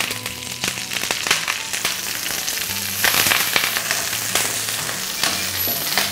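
Curry leaves frying in hot coconut oil give a loud, continuous sizzle with scattered crackling pops throughout, close and steady, with no voices.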